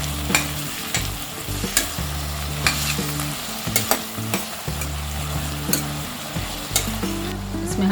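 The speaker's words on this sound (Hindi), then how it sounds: "सब वेजेस को लो फ्लेम में फ्राई कर लेंगे" Vegetables and chopped tomatoes fry on a low flame for soya pulao, giving a steady close sizzle broken by frequent sharp scraping stirs.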